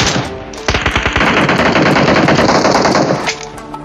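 Rapid bursts of gunfire from a shotgun in the mobile battle royale game PUBG Mobile, loud and close, with a dense sustained volley after an opening few shots before it cuts off, no talking.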